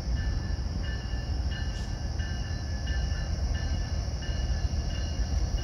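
CN and CP intermodal freight trains rolling past in Dorval, a steady loud rumble of wagons with faint high metallic ringing tones running throughout, no talking.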